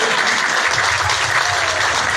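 Steady applause fills the whole clip as a crowd stands to clap for association presidents at an Eskişehir community gathering in Yenikapı, dense and continuous with no pauses.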